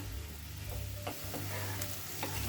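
Potatoes and green beans frying in a pan for aloo beans sabji, a steady soft sizzle with a few stirring scrapes and clicks, close by and with no one talking.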